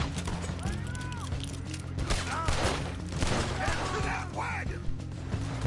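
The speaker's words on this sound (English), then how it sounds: "I'm in the middle of a gunfight" Gunfire from a gunfight in Red Dead Redemption 2 crackles in quick volleys of sharp shots. The shots sit fairly low in the mix under a talking voice and light game background sounds.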